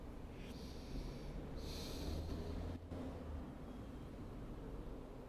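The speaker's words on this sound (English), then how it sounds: "Taking another couple of breaths here." Slow, soft breathing during a seated yoga stretch, faint and close, with a gentle drawn-out breath swelling and fading over low background hiss.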